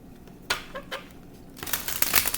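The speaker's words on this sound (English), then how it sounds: "I'm going to shuffle." Tarot cards riffle and slap together in a couple of quick bursts, a papery shuffling close by, louder toward the end.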